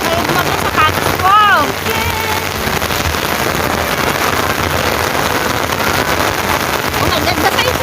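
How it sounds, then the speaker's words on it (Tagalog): Heavy rain pours down in a constant, loud wash of hiss and patter, with a brief voice-like sound early on. "Malakas ang ulan, no?"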